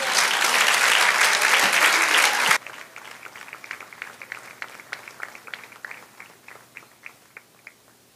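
Church congregation bursts into loud, dense applause for a couple of seconds, then it drops away into scattered, fading individual claps.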